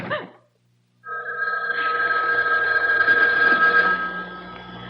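An old-fashioned house telephone rings as a radio drama sound effect: a short burst, a pause, then a loud, steady electric bell ring that keeps going without talk.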